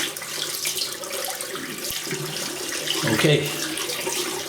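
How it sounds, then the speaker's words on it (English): Water running steadily from a tap while hands are rinsed during a wet shave, a close, continuous splashing gush that swells slightly partway through, with a brief spoken word over it. "Rinse my hands."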